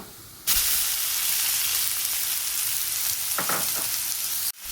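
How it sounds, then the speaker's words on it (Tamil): Two finely chopped onions hit hot oil in a pan for rajma gravy, bursting into a loud, steady sizzle that holds evenly for several seconds before cutting off abruptly, close up with no talking. "ஸோ இந்த ஆனியன் வந்து நல்லா வதங்கட்டுங்க."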